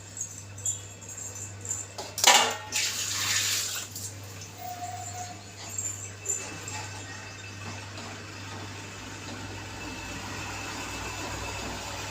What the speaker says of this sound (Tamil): புளி தண்ணி இன்னும் கொஞ்சோண்டு ஊற்றிக்கலாம்